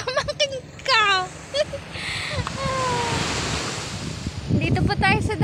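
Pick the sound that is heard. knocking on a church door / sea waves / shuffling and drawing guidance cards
sea waves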